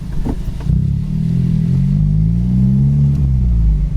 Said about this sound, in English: I can't get over this MAPerformance exhaust. It sounds so good.